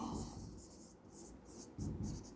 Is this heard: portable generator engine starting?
no